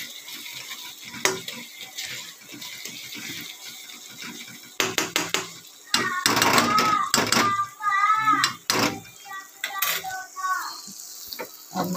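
Masala cooks in a pan for wheat-flour pasta, with soft sizzling and intermittent spoon scraping and clattering against the pan, alongside someone talking.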